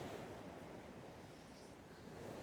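Ocean waves wash against a coastline in a continuous, steady roar mixed with wind, at a constant level throughout, with no voices.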